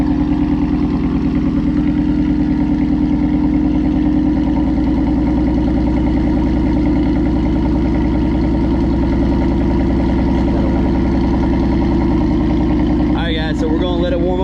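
A Whipple-supercharged 2015 Mustang GT V8 idles while warming up, a loud, steady low rumble close by, with a brief voice near the end.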